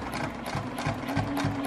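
Sewing machine stitching along a quilting ruler to sew shamrock heart shapes, a rapid, even mechanical chatter of needle strokes, close and steady.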